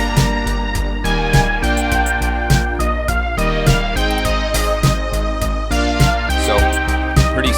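A PO-33 pocket operator plays a steady eighth-note bass line with a punchy beat, even and loud, with no talking over it.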